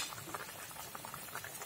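Fish curry with fried fish pieces added simmers and bubbles in a pot, a soft close patter of small pops and gurgles, faint and continuous without speech.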